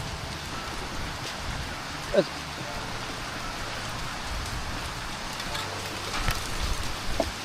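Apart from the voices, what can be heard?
hail falling during a hailstorm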